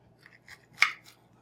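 Brief soft scrape and slice of a knife cutting into a cooked New York strip steak with Italian lemon oregano marinade, a few faint strokes and one sharper cut, close and quiet.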